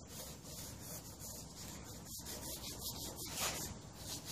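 A Scotch-Brite pad scrubs rust from the chrome handlebar of a Honda CT70, giving a steady close abrasive rubbing with short quick strokes and no talk.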